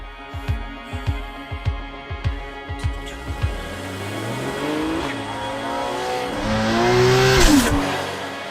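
Porsche Cayman with a 2.7 liter flat-six engine being driven, a close revving engine with rhythmic gear shifts and rising pitch, swelling into a loud sustained acceleration with some tire noise near the end.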